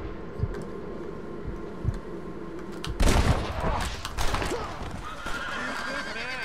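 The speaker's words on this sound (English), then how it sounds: "And I hear some shooting." Gunfire rings out in the Western video game Red Dead Redemption: a cluster of sharp shots bursts out midway, mixed with whinnying horses and clip-clopping hooves over a busy outdoor game soundscape.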